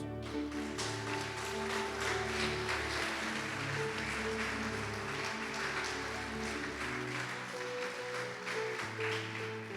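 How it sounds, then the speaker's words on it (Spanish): Sustained applause from a church congregation at a Sunday service fills the room, steady and dense, with a low musical drone and tones continuing underneath. "denle un aplauso a Jesús."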